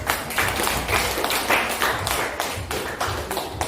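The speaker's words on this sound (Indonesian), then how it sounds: "Tepuk tangan untuk Christine." A classroom of students claps for a classmate in a short, close, irregular burst of hand claps that lasts a few seconds.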